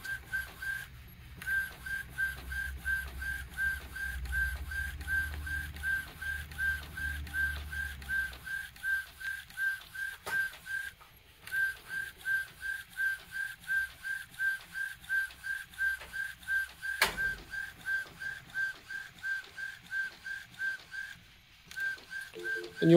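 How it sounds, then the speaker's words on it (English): An Epson XP15000 inkjet printer runs a print job with its cover open, giving a steady, fairly quiet stream of rhythmic, evenly spaced mechanical pulses and whirs, with a low rumble early on. "it is printing in the correct location."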